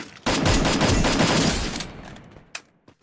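Rapid automatic gunfire in the mobile battle royale game Free Fire fires in a dense burst for over a second and fades, followed by a couple of isolated shots, loud and close.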